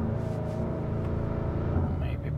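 BMW M5 F90 Competition, rear-wheel-drive mode, accelerating hard in second gear, heard from inside the cabin as a loud, steady engine roar with rising harmonic tones, continuous throughout.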